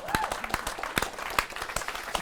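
A small, fairly quiet audience gives scattered applause, with distinct individual claps popping out irregularly over a soft wash of clapping and a brief voice.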